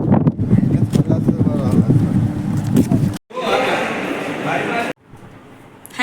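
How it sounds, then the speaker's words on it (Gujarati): Strong wind buffets the microphone in loud, rumbling gusts across several abrupt cuts, with a person talking over the blustery roar for much of the time. "તો પવન બી બહુ આવે છે."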